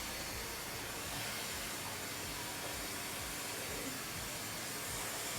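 A hair dryer blasts continuously at close range during a brush blowout, a loud, steady airy roar with no breaks.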